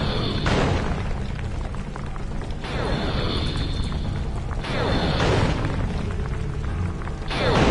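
A tank turret repeatedly fires in the video game Sly 2: about four heavy booming blasts with crackling, rumbling tails, evenly spaced a couple of seconds apart, loud and close.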